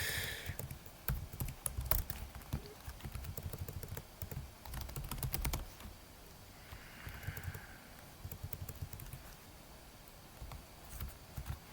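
Someone types on a computer keyboard in irregular bursts of quick clicks with short pauses between runs, close and fairly quiet, with no talking.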